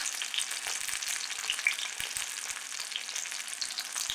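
Oil sizzles and crackles steadily in a hot pan, a constant hissing fry with scattered small pops, quiet and close.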